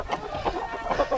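Several hens cluck in soft, repeated bursts close by on a small snowy homestead during a snowstorm, with no talk.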